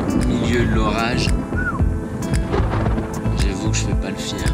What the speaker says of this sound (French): Ça gronde sur la cordillère.